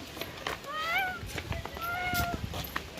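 A cat on a valley roadside lets out two drawn-out meows, moderately close, amid scattered footsteps and background noise.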